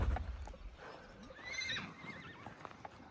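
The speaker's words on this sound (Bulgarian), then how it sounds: "Тук са даже крави и кончета на едно място." Horses neighing in a mountain meadow, a loud whinny rising mid-clip amid softer snorts and hoof clops, with a low thump at the start and quiet open-air background.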